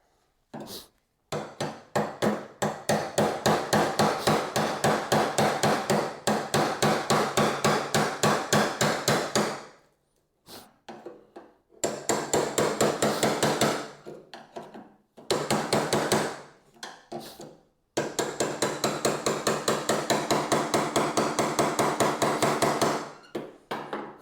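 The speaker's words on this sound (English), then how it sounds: "I need a hammer." Rapid, steady hammer blows on metal ring out in long bursts, separated by short pauses, loud and close, during body work on inner door panels of a 1965 C10 pickup.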